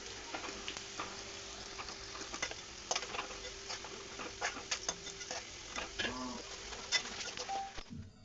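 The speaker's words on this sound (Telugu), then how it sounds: "అదే కళాయిలో ఇప్పుడు గుడ్లు వేపుతున్నానండి" Eggs frying in a kadai for egg masala curry give a quiet steady sizzle with soft patters and occasional stirring clinks, close and faint.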